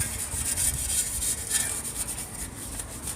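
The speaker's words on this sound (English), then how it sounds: "let me finish up trying to scrub these little pieces up in these little corners" A brush scrubs grease off small classic VW engine tin pieces, producing a continuous close scratchy rubbing with short uneven strokes and no talk.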